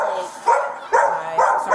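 A dog barks repeatedly and loudly up close, four sharp barks at a steady rhythm, with no talk over them.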